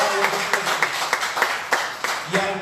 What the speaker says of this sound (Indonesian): Berikan sekali lagi tepuk tangan kemuliaan bagi Tuhan kita